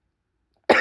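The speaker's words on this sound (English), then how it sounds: "pardon my coughing, asthmatic" After near silence, a single sharp cough from an asthmatic person bursts out close and loud at the very end.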